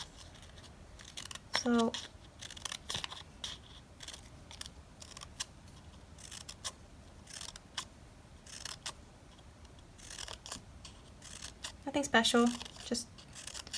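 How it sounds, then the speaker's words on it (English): Scissors snip slits into crepe paper in two short bursts of crisp cuts, close and moderately loud, with someone talking quietly around them. "So now I'm going to cut the slits, and I'm gonna go pretty much to the middle of the crepe paper."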